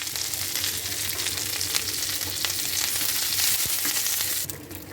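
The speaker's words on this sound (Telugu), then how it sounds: "కరివేపాకు వేయించుకుందామండి." Curry leaves crackle and sizzle in hot oil with dried red chilies while making homemade karam podi, a loud steady frying hiss with small sharp pops and a brief stir, fading slightly at the end.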